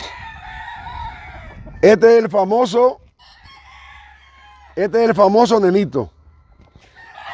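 Two loud, close rooster crows from a breeding gamecock, each a drawn-out multi-part call about a second long, separated by a quiet gap, with someone speaking briefly between them.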